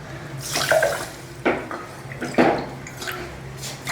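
Water is poured in several splashing bursts into a metal pan for sugar syrup for rava gulab jamun, close up, over a steady low background hum.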